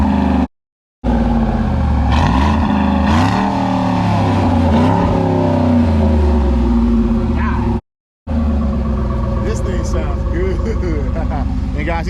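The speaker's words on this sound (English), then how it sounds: "Yeah, give me a few revs." A Ford truck's 5.4 engine revs repeatedly up and down close by, with people talking over the rising and falling roar.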